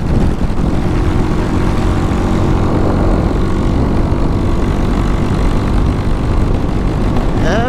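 Loud, continuous drone of a Honda Titan 250cc motorcycle engine with a modified carburetor held at one throttle position on a highway, running rough with irregular misfires under wind noise.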